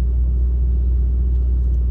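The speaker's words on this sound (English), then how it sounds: "hear how my exhaust sound. It's a Steeda exhaust." A 2005 Mustang GT with a Steeda exhaust cruises along, giving off a steady, low, fairly subdued rumble that carries on unbroken, close and without any voices.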